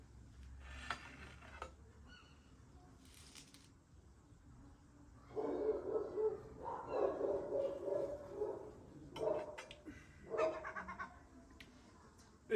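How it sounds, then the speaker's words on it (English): A dog barks repeatedly in the distance in Beirut, in short bursts separated by pauses, over a quiet background. "Hear that dog barking?"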